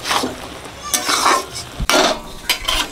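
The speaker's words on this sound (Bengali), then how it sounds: "তরকা ডাল হয়ে গেছে, ঢেলে দিচ্ছি।" Cooked tarka dal is poured from a pot amid close scraping and clattering of a utensil against metal, a few short bursts over about three seconds.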